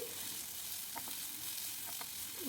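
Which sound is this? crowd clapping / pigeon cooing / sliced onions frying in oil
sliced onions frying in oil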